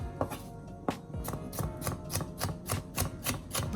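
Vegetables chopped on a board for ackee and saltfish, a steady run of about a dozen sharp knife strikes in an even rhythm, close and distinct.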